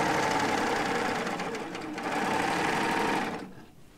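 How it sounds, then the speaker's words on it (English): A serger sewing machine runs in one steady, fast whirring burst while finishing fabric edges, close and loud, then stops abruptly near the end. "She's only used a serger just to finish off the edges of your pants."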